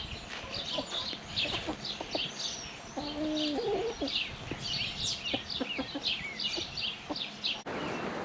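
A homestead flock of chickens, many of them young roosters, clucks and calls continuously, with a short crowing-like phrase in the middle and high chirps throughout, close by and without speech.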